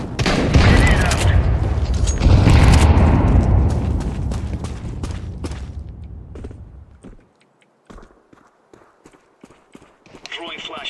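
A grenade bursts in Counter-Strike 2 with a loud, close blast that rolls on for several seconds and fades, followed by scattered sharp clicks and taps.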